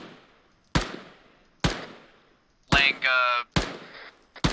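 Gunfire in the Arma military simulation game: four or five sharp, loud shots spaced about a second apart, with a brief buzzing burst between them and a short spoken word.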